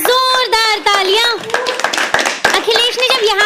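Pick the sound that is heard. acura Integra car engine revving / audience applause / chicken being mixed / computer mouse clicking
audience applause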